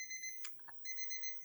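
A cooking thermometer alarm beeps in rapid, high-pitched pulses because the water has gone too hot, faint and broken by brief clatter before the beeping resumes.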